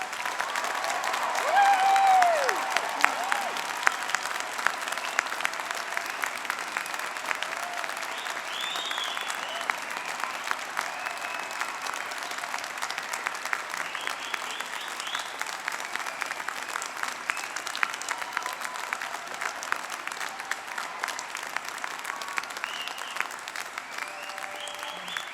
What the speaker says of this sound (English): let's start the ceremony off by giving all of our amazing graduates a huge round of